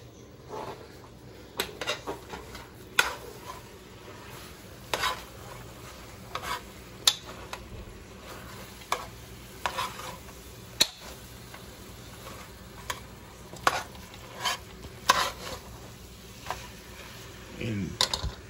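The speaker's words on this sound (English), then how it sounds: "I'm browning the meat now, trying to get it ready, trying to get it done. Break it up as it cooks, so it'll be in small pieces" Ground meat browns and sizzles in a pan while a utensil stirs and breaks it up, giving repeated scraping clicks and taps over a soft continuous fry.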